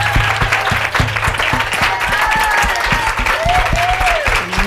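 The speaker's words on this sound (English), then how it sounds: "can everybody give her a fucking round of applause?" A dense crowd at a business coaching mastermind event bursts into sustained, loud applause that keeps up throughout, with a few cheers and whoops rising over the clapping.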